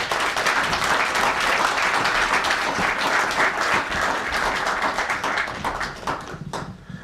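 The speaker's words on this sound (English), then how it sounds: "give them your attention and a round of applause for coming out tonight" Sustained, dense applause from a crowd at a photography exhibition gallery opening, holding strong for several seconds before tapering off at the end.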